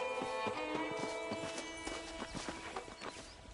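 Horse hooves clip-clop steadily in Red Dead Redemption, a rhythmic run of hoof strikes close by, with occasional whinnies over a layer of music or ambience.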